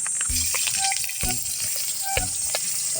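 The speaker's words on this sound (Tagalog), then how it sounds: "magigisa na tayo ng sibuyas at bawang" Onion and garlic sautéing in a pan, a close continuous sizzle broken by repeated scraping and clattering strokes of a spatula stirring.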